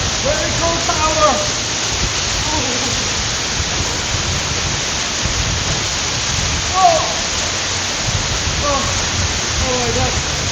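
A fast-flowing waterfall in the hills of Nepal roars steadily and loudly up close, a dense unbroken rush of falling water, with voices calling out faintly over it.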